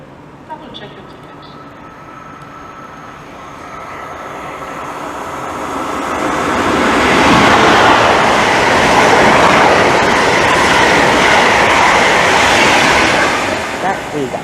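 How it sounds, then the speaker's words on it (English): A Class 90 electric locomotive hauling an intercity train from Norwich to London Liverpool Street approaches a station platform at Romford, growing from a distant hum to a loud roar and rumble of passing wheels before easing slightly. "The intercity set is now approaching."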